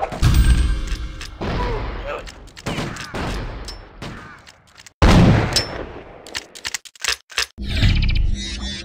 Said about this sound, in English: The sawn-off shotgun is a bit of a letdown.